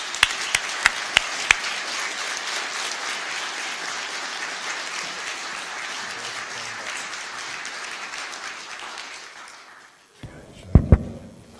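An audience at the 2017 Tamar Valley Peace Festival in Launceston breaks into sustained applause to welcome a speaker, starting with a few sharp claps, swelling into steady clapping that fades out after about ten seconds before a voice begins.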